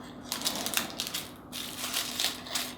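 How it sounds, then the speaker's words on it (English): Close, crackly crunching and snipping as scissors work through stiff plastic in short irregular bursts, with no talking. "just grab my scissors and cut through the plastic."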